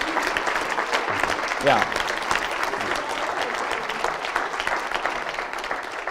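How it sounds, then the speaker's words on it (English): A conference audience applauds steadily, a dense even patter of many hands at moderate distance, while a voice speaks briefly over it. "he deserves a bigger round of applause for that"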